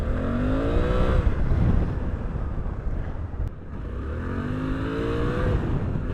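A Suzuki V-Strom 800DE adventure motorcycle, a 510-pound bike, is ridden hard along a sandy desert trail through brush and cactus, its engine revving up and easing off in two loud surges close by, with no talking.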